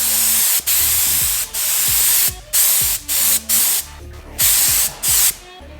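Spray gun applying paint to a custom Cat Eye Chevy, hissing in about eight bursts of steady broadband spray separated by short pauses, close and loud.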